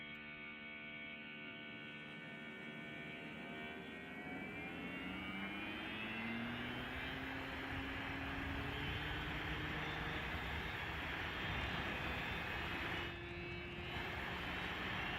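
Tire rolling noise from a Sodi SR4/5 rental kart in the Assetto Corsa racing game, a steady loud broadband rumble layered with rising and falling engine whine, continuous throughout with no talk.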